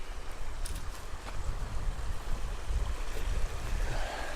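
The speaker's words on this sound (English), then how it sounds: "Little creek right by our camp." A small creek runs beside a campsite in Bluerock Wildland Provincial Park, giving a steady rushing wash of water with light wind and no voices.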